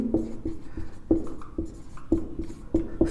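Notes being written on a board during a classroom lesson, heard as a quick series of sharp taps and short scratchy strokes, close and distinct, with no talking.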